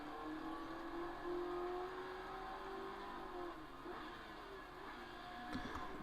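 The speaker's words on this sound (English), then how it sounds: "Revving pretty loud" A GT race car engine in the video game Motorsport Manager hums at a moderate distance, its pitch rising and falling steadily with a brief sharp knock near the end.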